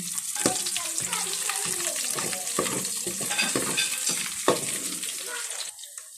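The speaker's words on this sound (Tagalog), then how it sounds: "Siyempre, konting gisa-gisa lang yan." Ginger sautéing in a hot pan as the base for mung bean stew, a steady close sizzle with scattered sharp crackles and pops from stirring throughout.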